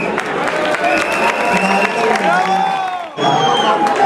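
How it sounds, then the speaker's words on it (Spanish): Audience applause and cheering at a lively Olympic-themed community event, a loud crowd clapping and shouting continuously, with voices and whistles rising above it and a brief dip before the noise resumes. "Cristian empieza con Alfonso Díaz, un aplauso."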